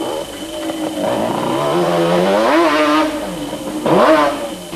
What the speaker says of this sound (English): But he had to contend with Johan Kruger, who was having a steady ride on his Arena Auto Spares Yamaha Banshee.